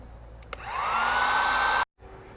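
A heat gun shrinks heat shrink tubing on wiring for a Jeep Gladiator light bar install. After a click, it whooshes up into a steady, rising whine for over a second, then cuts off abruptly.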